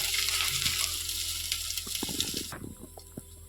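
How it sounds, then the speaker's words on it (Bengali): Ginger frying in ghee for a Bengali chana dal dish, a dense hiss filling the first two and a half seconds before dropping to a quieter crackle with scattered pops and light scraping. "আদাটা যখন একটুখানি ভাজা ভাজা মতো হয়ে যাবে"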